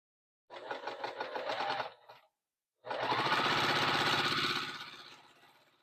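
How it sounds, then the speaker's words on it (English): A sewing machine with a 1/4 inch foot stitches fabric in two bursts, a short rapid run, a pause, then a longer steady whir that slows and stops, close and fairly loud. "I love this sewing machine."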